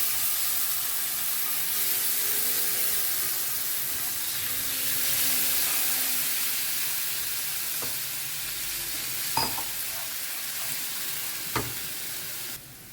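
Water poured into a hot pan of masala while making pomfret fry, setting off a loud, steady sizzle and hiss of steam that continues throughout, with a few clinks of a utensil near the end.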